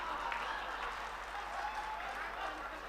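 Faint, distant applause from the audience at an All India mushaira poetry recital, a continuous wash of clapping with murmured voices under it.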